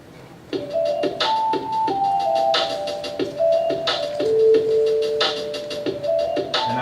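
Bright bell tones in an electronic music track, a melodic sequence of struck chime-like notes with ringing sustain over a steady rhythmic beat, fairly loud and clear.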